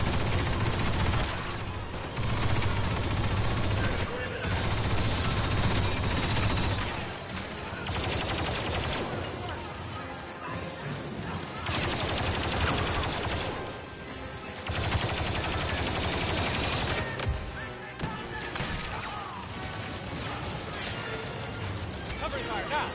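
Covering fire in Star Wars Battlefront 2 comes as loud, dense bursts of blaster and automatic gunfire that stay steady, with brief dips between volleys and voices talking over the shooting.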